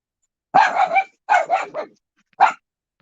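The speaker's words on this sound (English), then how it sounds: "If y'all got to hear that was Benji barking." A dog barks close and loud in three separate bursts, two quick double barks followed by a single sharp one, with silence in between.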